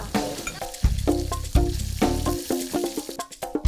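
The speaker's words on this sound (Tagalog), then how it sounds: "Magpiprito muna kami ng isda." Fish frying in a pan for a Filipino dish from Sasmuan, Pampanga, crackling and sizzling steadily with bursts of oil spatter and occasional clinks of a utensil, close and without talk.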